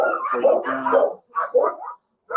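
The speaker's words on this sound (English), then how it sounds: "Should we put the dog back inside for a second" A dog barks in several quick, loud bursts close by, with short pauses between the barks.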